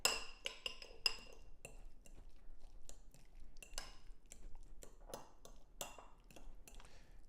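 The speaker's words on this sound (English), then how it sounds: "I want to add about a tablespoon of tomatoes to my guacamole. Go ahead and mix that up." A utensil mixes tomatoes into guacamole in a bowl, producing soft scattered clinks and scrapes in an irregular rhythm, close and quiet.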